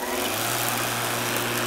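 An upgraded electric lawnmower with a balanced blade running at 1725 RPM cuts grass with a steady, close, smooth whirring drone that holds evenly throughout.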